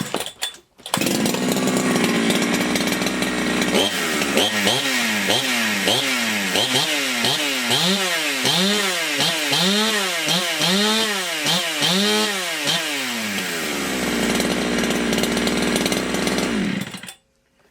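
A ported Husqvarna 272xp chainsaw with a machined 50mm cylinder and retuned ignition timing starts loud and close, then revs in a run of rapid, snappy throttle blips before settling back to a high idle.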